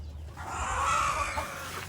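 A backyard hen rises into a single drawn-out cluck that swells and fades within two seconds, moderately close, amid a mixed flock of Plymouth, Indian cross and laying hens with young roosters.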